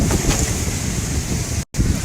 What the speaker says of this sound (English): Quite the windy day out.